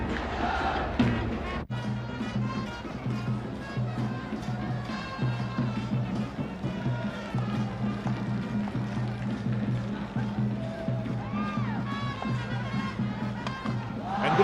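A crowd of some 15,000 spectators at a 1996 Sri Lanka versus Kenya cricket match at Askiri applauds and cheers a batsman's fifty, a steady distant roar with scattered shouts throughout.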